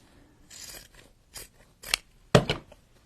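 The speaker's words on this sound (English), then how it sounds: "I'm going to cut it and do 2 separate pockets" Scissors snipping through a handmade nature journal cover, about four separate cuts with dry rasping bursts, the last one louder and sharper, close-up in a quiet room.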